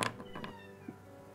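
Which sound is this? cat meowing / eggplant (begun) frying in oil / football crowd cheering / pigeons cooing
cat meowing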